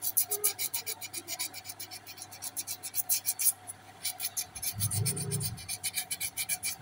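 Steady back-and-forth rasping scrape of coarse sandpaper on a camshaft of a Yamaha Soul GT 125 scooter, close and rhythmic, with a brief low thump midway.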